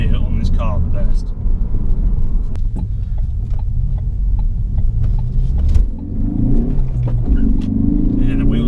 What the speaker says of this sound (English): Let's accelerate 3rd gear.